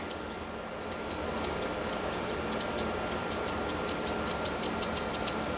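Grooming scissors trim a miniature poodle's coat in quick repeated snips, a steady rhythm of crisp metallic clicks close up over a faint hum, with no talking.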